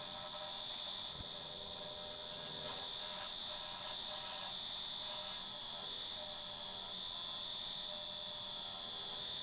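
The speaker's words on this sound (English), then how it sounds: "So we're spinning at 1400 RPM with the 40/40 grind bowl gouge" A wood lathe spins yew at 1400 RPM while a 40/40 grind bowl gouge faces off the base of a lamp. A steady, high, motor-like whine holds throughout over a low rumble, with faint scraping from the cutting.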